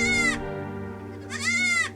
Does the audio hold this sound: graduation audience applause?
no